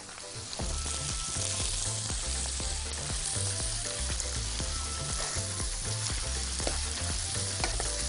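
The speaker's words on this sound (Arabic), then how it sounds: "الطاسة هنا سخنة، هنحط لها المشروم بتاعنا عشان نعمل ايه؟ نعمل مشروم صوص." Mushrooms hit a hot pan for a mushroom sauce and sizzle loudly and steadily throughout, a dense continuous frying hiss with occasional stirring clatter and no talking.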